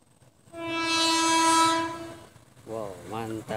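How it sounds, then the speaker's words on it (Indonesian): A KRL commuter electric train pulling into Citeras station on a straight double-track line blasts one loud, sustained horn note up close, followed by a brief rising and falling voice. "di stasiun Citeras sudah ada KRL yang masuk stasiun Citeras"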